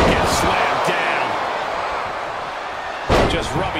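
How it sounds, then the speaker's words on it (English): A wrestler is slammed down in WWE 2K22 in a match between Austin Theory and Drew McIntyre, a heavy impact thud under crowd noise and commentary, with a second sharp hit near the end. "Gets slammed down."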